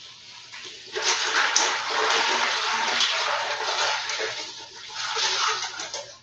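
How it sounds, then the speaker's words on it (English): Very cold water pours into a bowl holding ice, a bright splashing gush that swells and dips over several seconds, close and loud with no talking. "I'm going to put about half the ice in, along with some really cold water."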